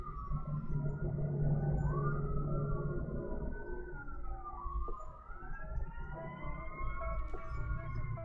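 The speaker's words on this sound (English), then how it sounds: "Sorry if you can hear the sirens." Emergency vehicle sirens outside wail continuously and fairly faintly in the distance, their pitch rising and falling as several sirens overlap, with a steady low rumble underneath.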